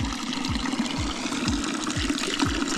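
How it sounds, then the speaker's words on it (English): Water runs steadily from a fountain at Rila Monastery, a continuous splashing flow with faint repeating low thumps underneath and no voices. "And here's a fountain with some water."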